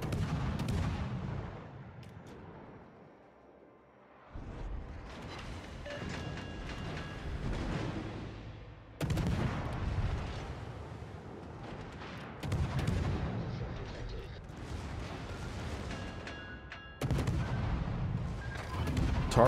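Heavy warship guns fire in a naval battle video game, with four booming salvos at steady intervals, each followed by a long rolling rumble over a quieter background.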